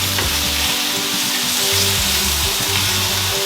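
Mushrooms sizzle and fry in hot oil in a pan for spaghetti with vegetables. A steady, dense crackle runs close and continuous throughout, with low hum and faint stirring knocks beneath it.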